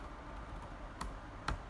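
Two sharp, isolated clicks about half a second apart, consistent with keys being struck on a computer keyboard. They sound close and faint over a steady low hum, with no talking.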